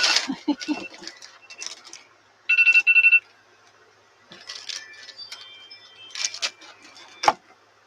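A phone alarm goes off indoors with short repeated electronic ringing bursts, close and clear, set among rustling and handling noises and scattered clicks as someone searches for the buried phone.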